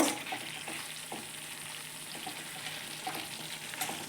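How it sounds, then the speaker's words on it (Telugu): Chicken pieces frying in oil in a pan with no water added, a soft continuous sizzle with faint occasional stirring scrapes, fairly quiet and without talking. "ఇలానే వేయించుకున్నామంటే చికెన్ పీసులు కూడా బాగా అర్థం ఉడికిపోతాయి అన్నమాట"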